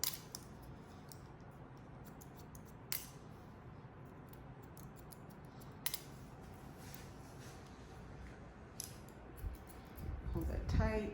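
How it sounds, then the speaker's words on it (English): Scissors point cutting hair during a pixie cut, giving a few sharp, sparse snips over a steady quiet background, with a louder burst of handling noise near the end. "Again, point cut into this."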